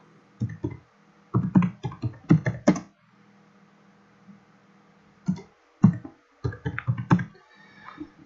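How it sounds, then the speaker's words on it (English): Text typed on a computer keyboard comes as close, crisp clicks in quick bursts, with a long quiet pause in the middle before the typing resumes. "And we'll type in the text that we want."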